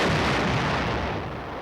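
Military artillery guns fire heavily, a continuous thunderous roar of blasts and booms at high loudness, dense and rumbling throughout with no speech.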